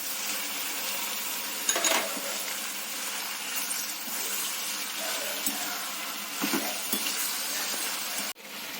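Tomatoes drop into green chillies frying in a pan for bajji mirapakaya pachadi: a soft, even sizzle with occasional stirring scrapes, then an abrupt shift in the sound near the end as the tomatoes go in.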